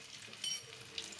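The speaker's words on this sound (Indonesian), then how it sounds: "Sebelum kita masukkan tongkol, kita masukkan jahe, masukin ke penggorengan." Sliced ginger fries in hot oil in a wok with a soft, steady sizzle and faint crackling pops, quiet and close, with no voices.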